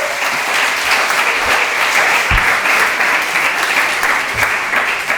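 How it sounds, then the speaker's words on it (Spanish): A congregation claps steadily throughout as a crowd at a Spanish-language church service, with dense, sustained applause, loud and close, and no talk over it. "Den un aplauso a Dios."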